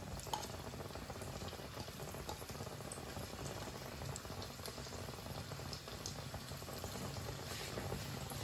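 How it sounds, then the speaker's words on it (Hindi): Small broccoli kebabs fry in hot oil, giving a steady, dense crackle and bubbling fizz that runs evenly throughout at moderate volume, with no voices. "अब जो बचे हुए बाकी के कबाब हैं उन्हें भी हम फ्राई कर लेंगे।"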